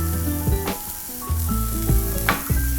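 Chopped onions, about a cup, sizzle in a spoonful of ghee in a kadai for restaurant-style kadai paneer, a steady loud frying hiss with a few sharp clinks and scrapes of stirring, no one talking.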